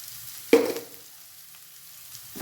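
Coriander and sugar dropped into hot oil for North Karnataka girmit, a puffed rice snack, give a sudden sharp sizzle that swells and fades within about a second, leaving a quiet background.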